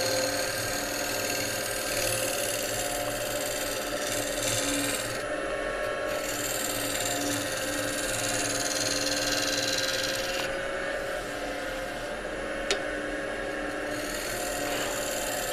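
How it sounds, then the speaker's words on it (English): Shear scraper smoothing a wet wood bowl spinning on a lathe, a steady close rasping scrape over the whir of the machine, continuous and fairly quiet with small shifts in tone. "Now you can use rough and style shear scraper, even flat."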